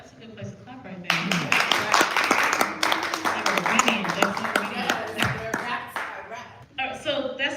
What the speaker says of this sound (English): That's a good place to clap right there.